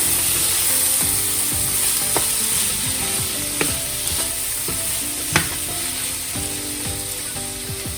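Unsalted butter sizzles loudly in a pan while it is stirred with steady scraping strokes and a few sharp clinks, and no one speaks.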